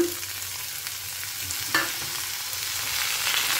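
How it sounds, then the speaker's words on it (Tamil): Boiled banana stem pieces stirred into a sizzling mustard-seed tempering in a stone pot, a steady hiss of frying with scraping stirs and one sharper clack partway through, no voices. "வேக வச்சு எடுத்துட்டு வாழைத்தண்டை இதோடு ஆட் பண்ணிக்கலாம்"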